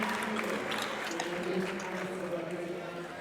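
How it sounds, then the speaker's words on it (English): Crowd applause at a professional men's padel tournament semi-final in Bali, a steady broadband patter of clapping sustained throughout, moderately loud and fairly even, with no distinct voices standing out. "with Dani appreciating the crowd and the support they've given the pair throughout the day."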